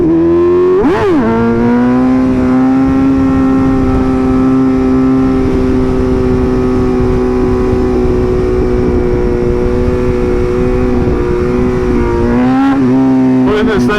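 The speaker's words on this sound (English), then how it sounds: "Listen to this thing, man. God, it sounds so good." A BMW M1000RR superbike engine revs hard and loud, its pitch jumping near the start, holding a steady high drone, then blipping again near the end; the rider's voice may sit faintly underneath.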